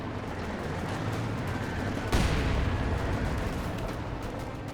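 A heavy 120mm mortar round booms mid-way through a constant rumble of distant battle in Company of Heroes 2, a single loud impact over steady background fire.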